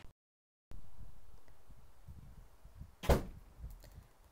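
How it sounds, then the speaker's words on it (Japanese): A door bangs once, sharp and close, in a quiet room with faint background noise and a few softer knocks after it. "さあドアバンバンしちゃうね。"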